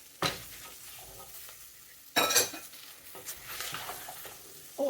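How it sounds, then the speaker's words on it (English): Celery goes into a sizzling pan of flour roux for chicken pot pie. Sharp scrapes and clatter of stirring come in bursts over a low sizzle, close by, with no voices. "And now we're going to add some celery."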